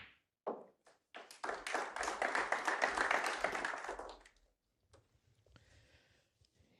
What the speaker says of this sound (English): Yes, applause there.